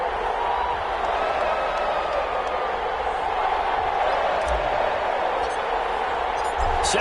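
A stadium crowd in an EA Sports NFL video game before a Kansas City Chiefs versus Las Vegas Raiders matchup, a steady, even roar of cheering and murmur filling the background.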